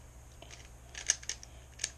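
A Rubik's cube being scrambled by hand, giving quiet, scattered plastic clicks and snaps that grow a little louder and denser toward the end, with no talking.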